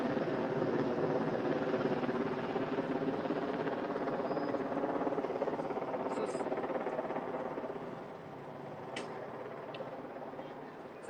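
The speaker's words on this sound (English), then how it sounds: "if anyone can identify the helicopter model, that would be really interesting to me" A helicopter flying over Swann Street in DC, heard as a steady, continuous rotor drone that holds fairly even and fades slightly toward the end, with faint street sounds in the background.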